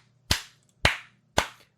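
Three sharp hand claps ring out close by at an even, unhurried pace, each ending in a short decay, with no talking.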